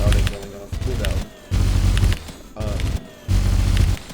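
A nail gun in a video game fires in rapid repeated bursts, with short pauses between volleys. Someone talks over the shooting.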